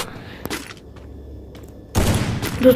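Gunfire in the Free Fire battle royale game: a sharp shot crack early on, then a dense, loud burst of rapid firing near the end.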